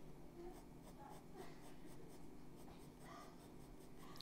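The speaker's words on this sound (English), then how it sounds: "So I'm coming in with my 2B pencil now. I'm reinforcing this" A 2B graphite pencil drags tapered strokes across paper, close and quiet, the soft scratchy strokes repeating in a steady rhythm with no talking.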